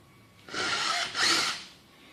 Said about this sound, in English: We just finished drilling a hole through the eave of the home.